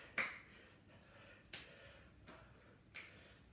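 Three sharp, quiet hand claps during a home stretching and exercise session, spaced roughly a second and a half apart, each a crisp snap in an otherwise still room.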